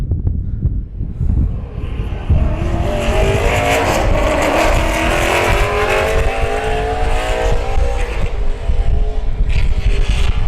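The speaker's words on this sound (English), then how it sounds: "One car is rolling out of the garage area at this time" Austin Dillon's number 3 NASCAR Sprint Cup race car rolls out onto pit road during 2014 testing, its engine rumbling and revving steadily and loud, with rising harmonic tones as it moves off; no talk.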